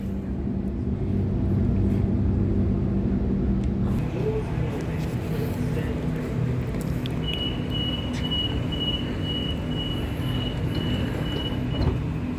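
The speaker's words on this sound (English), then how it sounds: "Let's drop off, send the train out." A Sydney Trains T5 A-Train departs Cabramatta station with a steady low rumble and hum of traction motors, a thin high whine settling in partway through, all heard at moderate level from nearby.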